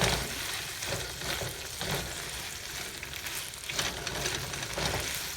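Shrimp stir-fried in a hot wok for Singapore-style rice vermicelli bee hoon, a steady broadband sizzle with periodic louder scraping tosses, close and continuous with no talking.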